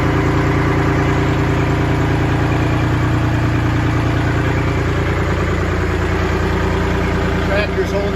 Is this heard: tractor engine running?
yes